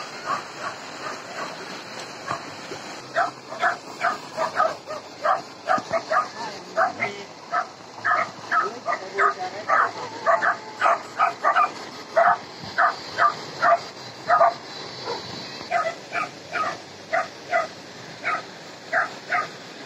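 A dog barks and yips over and over in quick, uneven bursts, close and loud, with scattered whimpers mixed in and faint outdoor background noise throughout.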